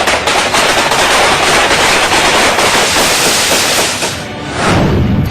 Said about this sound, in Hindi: AK-47 और राइफल्स से गोलियां बरसी।